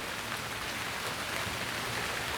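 Heavy rain during a run of wet mid-autumn days in Yuen Long, Hong Kong, falling as a steady, dense hiss throughout, with no voices.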